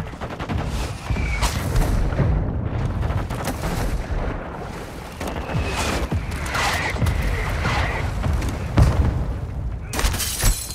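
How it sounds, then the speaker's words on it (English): Mortar strike explosions in Call of Duty: Modern Warfare II, loud booms landing among dense gunfire and battle noise, with radio-style voices calling out over the chaos. "Our mortar strike is inbound."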